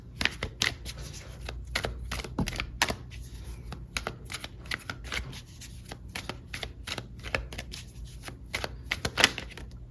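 Tarot cards are shuffled and pulled from the deck, giving a steady run of crisp riffling flicks and soft slaps across the whole stretch, close and fairly quiet with no talking.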